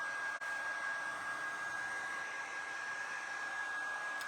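A hair dryer runs at a steady, even whoosh to dry a bee craft, up close and uninterrupted, with a brief dip near the start and a thin whine in the background.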